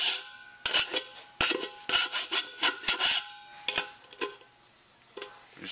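A metal file rasps the burred edges of a hole cut in a metal can, short scraping strokes in irregular bursts with brief pauses between them, close and clear, with no talking.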